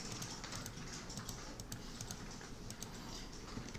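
Quiet, rapid clicks of fingers typing on a computer keyboard and pressing enter, a light irregular patter over a steady low background hiss.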